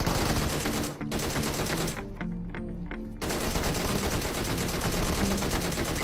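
Sustained automatic gunfire in the PUBG Mobile battle game, loud and continuous rapid shots with a brief break and a short, thinner burst before the heavy firing resumes.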